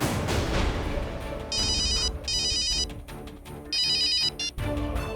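A mobile phone rings with an incoming call, its electronic ringtone repeating in several loud bursts over a low background of music.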